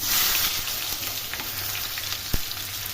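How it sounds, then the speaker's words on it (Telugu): Chopped onions frying in hot oil in a pan while cooking drumstick dal rasam, giving a steady close sizzle with faint stirring scrapes and one sharp tap near the end. "ఇప్పుడైతే ఈ ఉల్లిగడ్డలు దీంట్లో వేస్తున్నాం"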